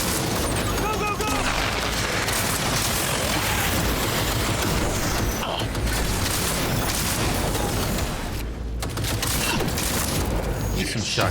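Video game gunfire in a chaotic battle, dense overlapping shots and automatic bursts with booming impacts, loud and continuous throughout, mixed with a busy game soundscape.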